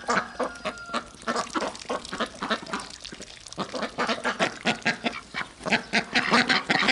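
Ducks quack close by, calling in a dense, overlapping run of sharp, repeated quacks that swells louder toward the end, with no talking.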